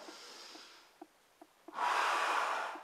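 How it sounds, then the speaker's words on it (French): During a push-up, a person draws in a long, breathy inhalation while lowering toward the floor. A few faint clicks come first, then the breath swells loud and close for about a second before fading. "j'inspire en descendant"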